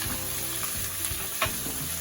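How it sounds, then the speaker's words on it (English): Onions frying in beef fat for Scottish stovies sizzle steadily and close up in the pan, with a continuous crackling hiss and soft stirring scrapes throughout. "So I'm going to add these onions. And you want to cook these for a good while."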